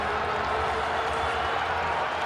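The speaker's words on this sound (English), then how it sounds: "Crowd trying to get into it." A football stadium crowd at a Las Vegas Raiders vs New York Giants NFL game, a steady broad roar of massed voices at even loudness, with no distinct peaks or individual shouts standing out.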